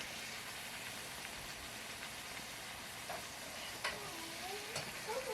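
A taco tortilla cooks in a hot pan with a steady, quiet sizzle and crackle, joined near the end by a few soft scraping and shuffling touches.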